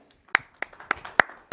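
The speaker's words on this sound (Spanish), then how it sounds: "Podemos dar un aplauso por ese concepto" Scattered claps from a small audience in a talk or church-style gathering, about five sharp separate hits spaced irregularly over a second and a half, thin rather than a full ovation.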